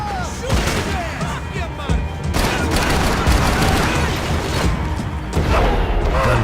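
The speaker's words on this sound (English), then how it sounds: "Gunfire over Hoboken." Gunfire over Hoboken in the video game Max Payne 3: dense, loud volleys of shots with crashes and thuds roll on without a break, with a brief lull near the start.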